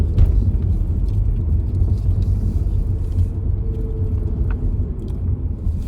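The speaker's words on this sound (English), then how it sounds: "I'll pull up in a second in the car park" Car rolling slowly into a car park, a steady low engine and road rumble heard from inside the cabin, continuous and fairly even with a few faint knocks.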